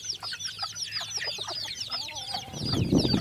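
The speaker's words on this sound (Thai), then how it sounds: "สุมนี้เป็นพ่อพันธุ์" A breeding rooster of a white-headed fighting breed clucks in a woven coop among chickens, repeated short clucks close by with other birds chattering in the background.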